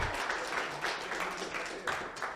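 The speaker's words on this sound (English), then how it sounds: "An applause for the band." A short burst of audience applause for a band at a community celebration, many hands clapping together in a steady wash with slight swells, moderately loud.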